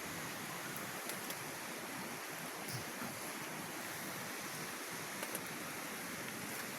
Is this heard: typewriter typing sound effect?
no